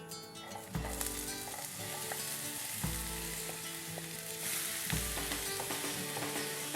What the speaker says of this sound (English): And this is just to fry off onions.